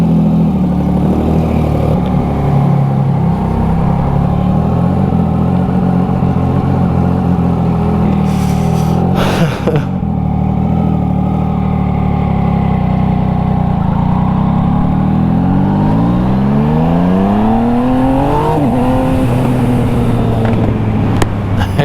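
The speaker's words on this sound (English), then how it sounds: "this thing sounds like the business. Gen 2 Yamaha MT09 here with the quick shifter" A Gen 2 Yamaha MT-09 with a quick shifter and about 43,000 on the clock, running loud and close as it idles, then revs with rising and falling engine sweeps near the end.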